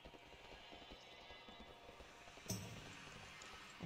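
Horse hooves clip-clopping in World of Warcraft Shadowlands, a quick steady run of soft hoofbeats at low level with a sharper thud partway through.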